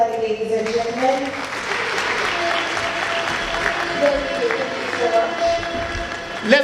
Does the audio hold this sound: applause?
yes